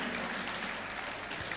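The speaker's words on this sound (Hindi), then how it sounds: "एक बार सबके लिए जोरदार ताली बजा के स्वागत कर दीजिए" Audience at a devotional religious discourse gathering applauding to welcome devotees, a dense, steady wash of clapping from many hands.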